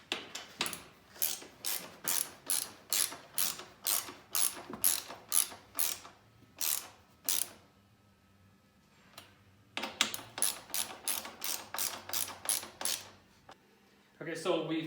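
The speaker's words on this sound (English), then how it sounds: "Now you can go around and tighten all M8 bolts" A hand ratchet tightens M8 bolts on KTM 1090 Adventure pannier racks, producing loud, close, rhythmic bursts of rapid clicking with short gaps between strokes and a pause before the next bolt.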